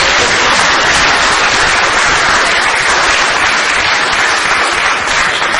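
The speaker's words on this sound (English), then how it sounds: "a big round of applause" Loud, dense applause from a large audience fills the whole stretch, steady and close with no voices breaking through.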